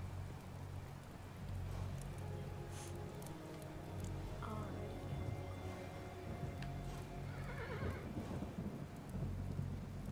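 Steady rain with low rolling thunder fills the background of the video game Kingdom, a continuous stormy wash that never lets up, with faint game tones layered on top.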